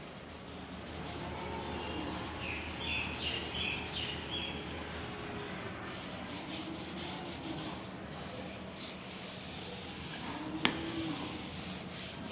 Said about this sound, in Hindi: आप इसको मैं रब करने जा रहा हूँ